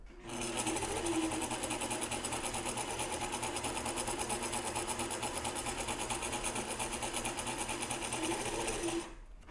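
Sewing machine stitching fabric for bias work, a loud continuous motorized whir with rapid needle chatter running steadily for nearly ten seconds, close up and alone.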